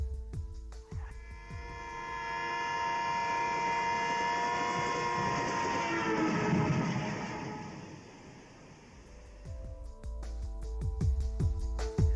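A passing train, a long sustained horn-like tone with stacked harmonics that swells loud and then fades as it recedes, heard alone without talk.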